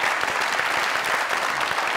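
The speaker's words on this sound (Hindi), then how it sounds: "जोरदार तालियां।" A comedy talk show studio audience claps loudly, a thick, steady burst of applause that holds at full strength for the whole moment.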